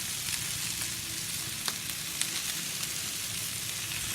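Jalapeno smoked sausage sizzles on a grill alongside onions and peppers at a tailgate, with a steady close crackle and hiss and a few sharp pops and spatters scattered through it, no voices.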